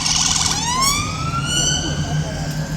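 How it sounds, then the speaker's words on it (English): A police car siren wails and sweeps through a city street, loud and close at first with rising and falling tones that trail off, over busy street noise. "The horses do seem fairly resilient when it comes to sirens."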